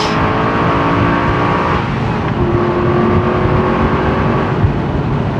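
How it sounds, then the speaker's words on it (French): An Aston Martin V8 Vantage Volante engine revs loudly and steadily, its tone climbing and then dropping as the gears shift. "on a un moteur qui n'est pas avare en sensations auditives"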